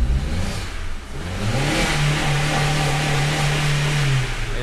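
A 2010 Tata Manza petrol car with a faulty oxygen sensor has its engine started, then revs briefly and settles into a loud, steady running note close by.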